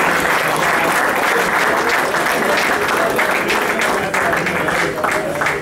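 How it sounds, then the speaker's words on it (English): A banquet audience at an awards dinner gives a warm, sustained round of applause, dense and loud continuous clapping filling the room without letup. "He deserves a warm round of applause for that."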